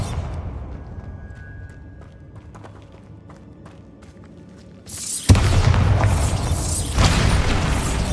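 A Bombarda spell explosion in Hogwarts Legacy, a sudden loud booming blast after quiet rustling, followed by a sustained roaring rumble that swells again moments later.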